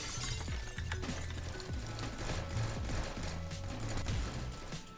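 Gunfire in the Roblox shooter Arsenal comes as dense, continuous rapid shots and crackling impacts over steady game music, with no pauses.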